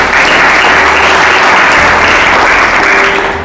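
A church congregation bursts into loud, close applause for God, a dense, even wash of many hands clapping that holds steady and tapers slightly at the end.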